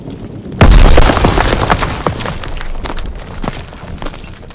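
A sudden loud grenade blast in Call of Duty: WWII bursts out after a quiet start, followed by sustained crackling gunfire and debris rattling that slowly tapers off.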